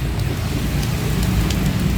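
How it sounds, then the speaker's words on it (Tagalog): Steady rain falling during a flood, a constant dense hiss with low rumble and no breaks, fairly loud and close. "Tuloy-tuloy pa rin yung ulan."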